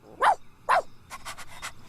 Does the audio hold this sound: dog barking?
yes